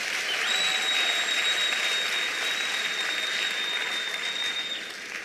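Sustained audience applause for sponsors and partners at the 2024 ministerial announcement of NSC examination results, a dense steady wash of many hands clapping that fades slightly toward the end, with a faint high whistle-like tone running through it.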